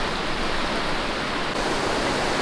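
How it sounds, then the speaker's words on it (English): River rapid water rushes steadily around a bend, sweeping to the outside of the curve past shallows on the inside; a dense, constant roar fills the whole stretch, loud and close, with no voices. "on this rapid, the water sweeps to the outside of the bend, while on the inside it's quite shallow"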